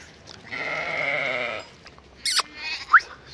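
A ewe or lamb gives one long, clear, wavering bleat close by as dairy lambs reunite with their mothers, followed by a sharp squeak and a few short, scattered sounds.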